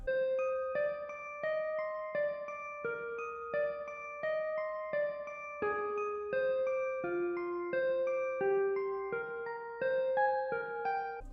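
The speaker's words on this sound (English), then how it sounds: "using a guitar patch from Omnisphere, I played this melody." Omnisphere guitar patch picking a slow, repeating trap melody of evenly spaced plucked notes, each ringing briefly with a chorus and phaser sheen, steady and moderately quiet with no voices.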